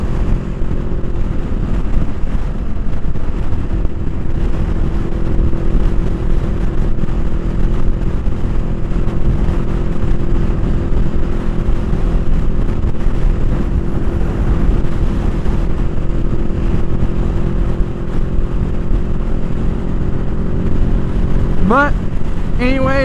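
A 2021 Honda Rebel 500 S motorcycle cruises down the road with a steady, droning engine hum and wind rush throughout, with a rider talking over it.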